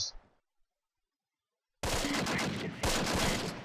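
Gunfire in the wargame Close Combat, with troops taking fire along a small road section: after near silence, sustained dense bursts of shots erupt loudly, swelling again near the end.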